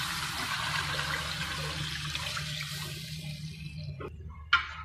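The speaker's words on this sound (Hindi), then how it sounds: "इसमें मैं आप पानी डालूंगी, 4 गिलास पानी डालूंगी।" Water, four glasses, pours steadily into a pot for moong dal khichdi in a continuous splashing stream, close by, then tapers off, followed by a brief clink near the end.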